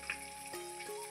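Pieces of rui fish frying in hot oil for a Bengali macher kalia, a steady soft crackling sizzle with faint background hum, heard alone for a brief moment.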